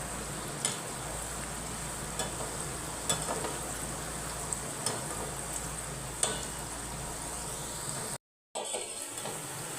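Kumbhaniya bhajiya fritters crackle and sizzle steadily in hot oil over a medium-low gas flame. Occasional soft knocks come as they are turned, and there is a brief dropout near the end, with no talking.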